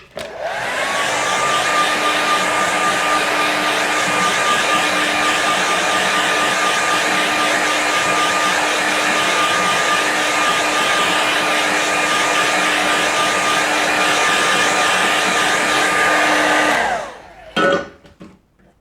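A hair dryer blows steadily and loudly on a watercolour painting, a constant whirring roar for about seventeen seconds before it clicks off with a brief rattle at the end.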